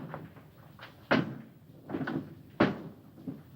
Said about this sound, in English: You, over to my chair and throw the last switch.